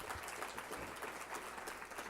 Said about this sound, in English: round of applause for Marion